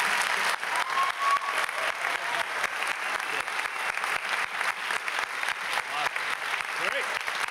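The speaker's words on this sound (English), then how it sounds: "Keep clapping for Mr. Hazen." Audience applause at a high school spring orchestra concert, dense steady clapping from a crowd filling the room, with a voice speaking over it.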